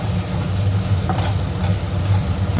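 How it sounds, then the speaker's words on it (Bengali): Onions frying in a pan with salt, sugar and turmeric give a steady, close, dense sizzle with faint stirring scrapes running throughout. "পেঁয়াজটা এখানে লাল লাল করে ভাজা হয়ে গেছে"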